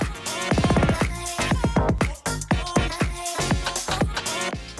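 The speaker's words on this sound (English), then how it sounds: "This is a set of 4 buttons that will chop and repeat the drum part of your track." Music with only the drum part chopped into rapid repeating bursts by an AlphaTheta DDJ-GRV6 DJ controller's drum roll effect, a stuttering roll that speeds up and restarts, playing loud with no talking.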